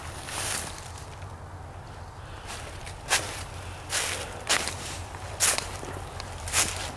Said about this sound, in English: I've heard footsteps right in front of me.